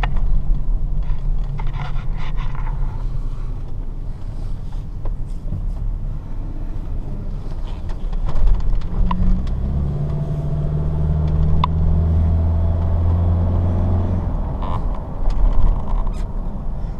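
A 2003 Toyota Tacoma pickup truck on a short drive, a steady low engine and road rumble throughout with creaks and rattles from the cab, swelling a little louder midway as it accelerates.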